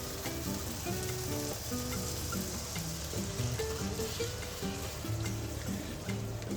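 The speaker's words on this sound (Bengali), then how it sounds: "তারপর একটু কষিয়ে নিয়ে নারকেলের দুধটা দিয়ে দিলাম" Spice paste of coriander powder and Kashmiri chili powder sizzles steadily in a pan with coconut milk, a continuous soft bubbling fry that runs quietly with no break.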